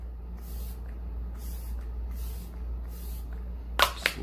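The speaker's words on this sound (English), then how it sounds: "gonna go in with the setting mist, the mist spray, the Coconut Recover Perfecting Coconut Setting Mist." Marc Jacobs Coconut Recover Perfecting Coconut Setting Mist sprayed from its bottle: two short, sharp hissing bursts close by near the end, over a steady low background hum.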